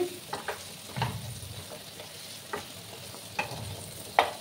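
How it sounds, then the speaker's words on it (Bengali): Pumpkin pieces frying in a pan on a raised gas flame, a low steady sizzle broken by a few sharp scrapes and clinks of stirring, close by and with no talk. "একটু সময় আমি মিষ্টি কুমড়োগুলোকে ভেজে নেব।"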